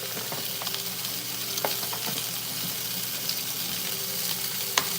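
A steak frying in a pan gives a continuous crackling sizzle with scattered pops and spatters, moderately close and steady, one sharper pop near the end; nobody speaks.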